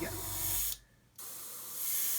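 Airbrush spraying paint onto paper, a steady broadband hiss that cuts off briefly mid-burst and then resumes at full strength, close and alone.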